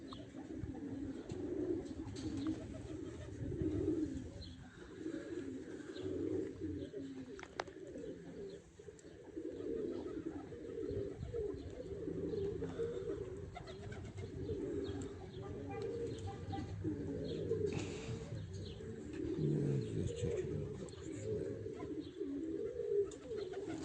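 Racing pigeons in a loft coo in soft, repeated throaty rolls, close and continuous for the whole stretch, with low murmured talk in the background at times.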